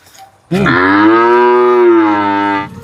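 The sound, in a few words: cow mooing, Friesian heifer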